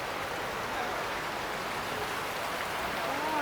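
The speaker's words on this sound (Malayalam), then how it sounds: "സൂപ്പർ എക്സൈറ്റിംഗ് മഴ അല്ലേടാ." Rain falls in a steady, even hiss of drops on surfaces, holding at a constant level throughout with no other clear sounds.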